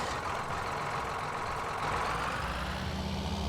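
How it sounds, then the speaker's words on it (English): A loud tractor engine in the video game Farming Simulator 2019 drones steadily and close, a continuous rumbling idle with a rough low throb that swells slightly midway, with no talking. "This tractor's pretty loud."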